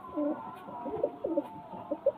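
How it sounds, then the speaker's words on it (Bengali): A pair of blue pigeons coos in short repeated bursts, soft rolling calls returning every half second or so at close range against a steady low background hum. "এই একজোড়া ম্যাট্রাস নীলা পায়রা দেখুন"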